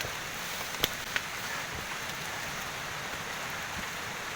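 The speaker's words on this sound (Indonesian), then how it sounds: "karena memang sekarang masih dalam keadaan hujan" Steady rain falls on the Puthuk Gragal forest trail in Mojokerto as a constant, even hiss, with a couple of sharp drip or tap sounds near the start and no talking.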